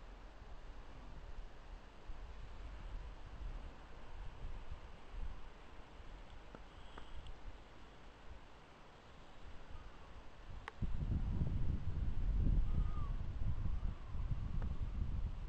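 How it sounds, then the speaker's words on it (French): Wind moving through hollyhocks outdoors: a faint, soft rushing that swells into louder, gusty buffeting toward the end. "Un peu de vent."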